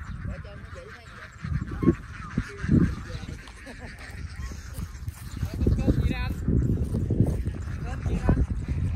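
Geese kept at a rural home in Trà Vinh, Vietnam, honk on and off at moderate distance, mixed with people talking and other outdoor noise.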